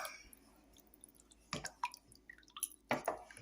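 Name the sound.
beaten egg poured into cooled liquid for Easter spice bun dough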